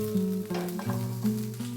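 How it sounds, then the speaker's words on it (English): Smoked tofu and broccolini sautéing in avocado oil in a non-stick pan over medium heat: close sizzling with a few stirring scrapes and shifting tones, continuous and moderately loud, with no talking. "Smoked tofu and broccolini. Saute for a few minutes."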